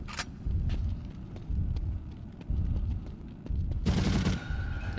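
Machine gun fire in The Suffering game rattles out in steady repeated bursts, loud and close over a low rumbling backdrop, with a brighter, harsher volley near the end.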